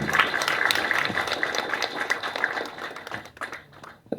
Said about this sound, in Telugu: and a big clap for them